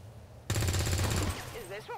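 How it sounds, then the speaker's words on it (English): Automatic gunfire from soldiers in the turn-based strategy game XCOM 2 bursts in loudly after a brief quiet, a dense rattling volley lasting under a second before fading into game tones. "And you will open fire."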